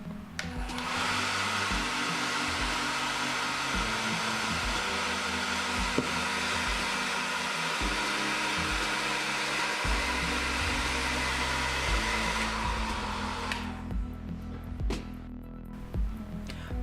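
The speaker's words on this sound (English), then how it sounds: "For this we will use a hairdryer, because this will make it easier to remove the display module." A hair dryer blows steadily as it heats a Samsung J5 Prime G570 phone to soften the glue under its display, a loud constant whoosh for about thirteen seconds before it switches off and winds down.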